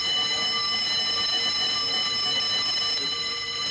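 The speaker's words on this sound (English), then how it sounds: "An onboard emergency is indicated by the continuous ringing of the ship's alarm bells." A ship's alarm bells ring onboard in a steady, continuous electronic tone without pause, an unbroken emergency alarm sounding over low background hum.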